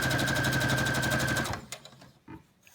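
Close, rapid mechanical chatter of a sewing machine stitching a gathered fabric face mask runs steadily, then stops abruptly, followed by a few faint handling knocks.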